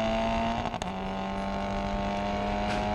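Onboard a Cupra WTCR race car at full throttle on the Slovakiaring circuit in 2019, a loud, steady engine drone with a high harmonic whine, briefly dipping near the start as if changing gear, then holding on.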